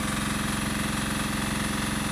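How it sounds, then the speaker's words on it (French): Diesel generator running steadily in a small compound, a constant close engine drone with a fast even throb and no other sounds over it. "Là-bas, vous voyez le groupe électrogène en fait dans la petite casbah"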